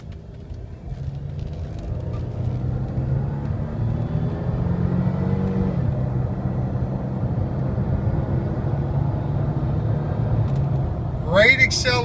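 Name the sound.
supercharged car accelerating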